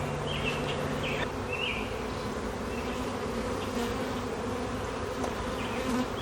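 Honey bees buzz steadily inside a struggling hive during a Demaree swarm-control inspection, a dense, continuous drone close by with no talking.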